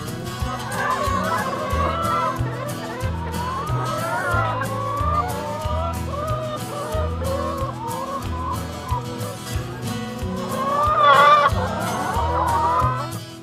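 Hens cluck and chatter close by in a farmyard coop, a busy overlapping murmur of soft clucks with a louder burst near the end, while people talk quietly.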